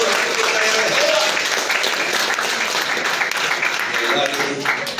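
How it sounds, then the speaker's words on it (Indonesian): A church congregation applauds loudly and steadily in praise during a worship service, a dense wash of clapping that swells and carries on without pause, with a few voices mixed in. "beri tepuk tangan yang meriah buat Tuhan kita yang hebat"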